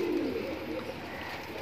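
Kale par pigeons in a loft give low, steady cooing that runs through the short stretch, close and moderately loud against a soft background of rustling.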